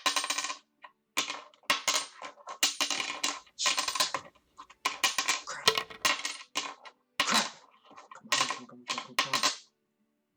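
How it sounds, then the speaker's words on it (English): Coins clacking and tumbling against one another as they roll across the fingers in a coin trick, heard as a rapid series of bright metallic clicks in short bursts, close and fairly loud, with no talk. "I tried learning a cool trick with coins. You roll them over your fingers and it looks pretty cool."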